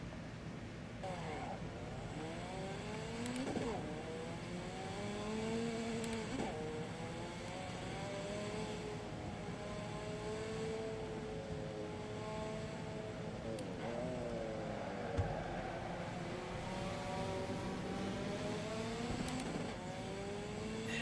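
A racing car engine in the video game Assetto Corsa, on the Brands Hatch Indy circuit, whines and shifts pitch continuously, revving up and down through gears, buzzy and thin, with a faint voice talking underneath.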